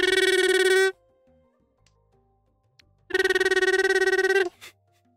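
A telephone-like ringing tone from the video game Pokémon Legends: Arceus sounds loudly in two bursts, a bright buzzing ring for about a second, then a pause and a longer ring.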